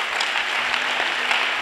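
A church congregation applauds in a steady, dense wash of clapping that fills the room throughout and is heard alone without any voices.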